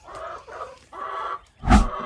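Farmyard chickens cluck in a few short, close bursts, ending with a louder flurry and a thump.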